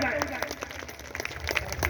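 An audience at a meeting applauds a newly promoted member, with a sustained patter of claps mixed with murmuring from the crowd.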